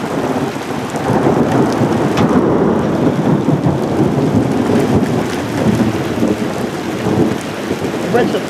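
A summer thunderstorm in Kimovsk pours heavy, steady rain with deep rolling thunder rumbling through it, loud and close throughout, with no clear speech.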